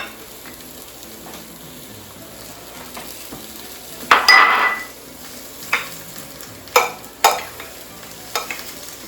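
Orzo pasta being stirred together with freshly chopped basil in a bowl, producing a soft scraping swirl with several sharper clinks and knocks of a utensil against the dish, fairly close and with no one talking.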